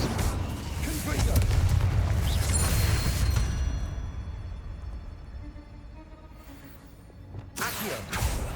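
Confringo explosive spell blast from Hogwarts Legacy on PS5, a loud booming burst with rumbling low end that swells for a few seconds then decays, followed by a quieter lull and a fresh burst near the end.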